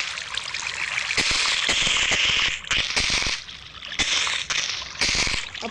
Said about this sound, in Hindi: अब पानी डालना पड़ेगा।